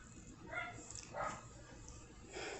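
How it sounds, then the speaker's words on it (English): Muffled, quieter dog barks come in three spaced bursts from a little distance, set against a steady hiss of background noise. "He's still barking, getting on my nerves."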